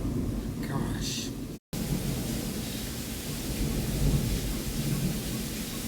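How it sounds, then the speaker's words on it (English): A thunderstorm in a racing game brings heavy rain hissing steadily with deep rumbling thunder throughout. A short break in the sound occurs early on, and a brief faint voice is heard near the start. "Is that a thunderstorm?"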